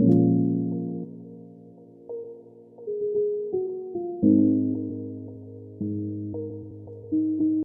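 A mellow amapiano synth chord loop plays alone, sustained chords shifting every second or so in a steady, unhurried progression.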